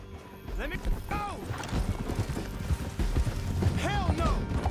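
Horses galloping in the Red Dead Redemption 2 video game, with steady clip-clop hoofbeats and a whinny, loud and busy under shouted talk and a music score.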